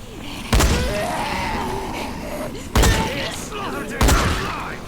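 Three heavy gunfire bursts in the video game Dying Light, each a loud sharp blast spaced a second or more apart over a constant background rumble.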